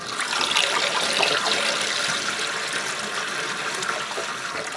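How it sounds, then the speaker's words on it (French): Water pumped by hand from a freshly thawed outdoor water pump at a winter cabin, a steady rushing, splashing flow that stays loud and continuous throughout with no voices. "Maintenant que la pompe est dégelée, je peux pomper de l'eau."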